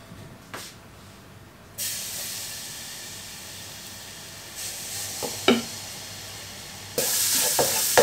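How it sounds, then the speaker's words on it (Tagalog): Garlic sizzles in hot oil in a frying pan, the start of a seafood sinigang, a steady frying hiss that swells in bursts as it is stirred, with no talking. "At lalagyan na natin ng bawang."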